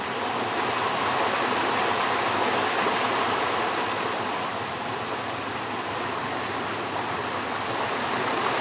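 A waterfall in Sri Phang Nga National Park, Thailand, roars as a steady, dense rush of falling water, loud and unbroken throughout with no voices.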